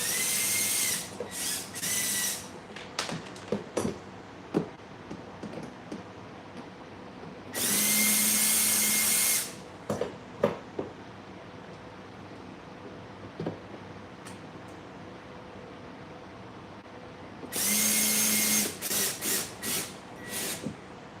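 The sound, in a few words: power drill assembling kids ride-on toy car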